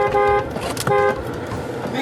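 A car horn honks twice, each a short steady toot, over street noise with voices talking nearby.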